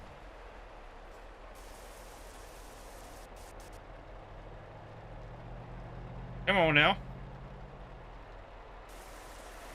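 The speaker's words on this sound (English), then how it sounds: "That rain sound keeps cutting out, which is bothering me" Rain in the truck-driving game Euro Truck Simulator 2 as a soft, steady patter with an engine hum, the rain noise dropping out and returning in the middle; someone speaks briefly.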